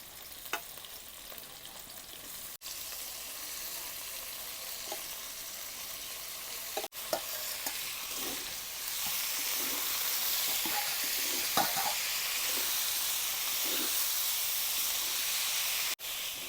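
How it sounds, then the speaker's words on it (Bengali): Potato and banana flower frying together in a pan for Bengali mochar ghanto, a steady close sizzle and hiss that swells louder midway, with scattered stirring scrapes and no talking. "আলুটা আধা ভাজা হয়ে গেছে, এখন মোচাটাও একসঙ্গে ভাজে নিব।"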